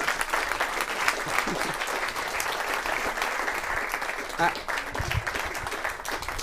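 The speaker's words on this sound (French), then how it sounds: "C'est dommage, on peut applaudir le scientifique," A comedy-night audience at a live superhero comedy show applauds the scientist character, dense clapping rolling steadily throughout with a few voices mixed in.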